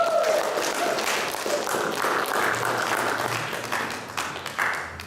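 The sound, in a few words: congregation applauding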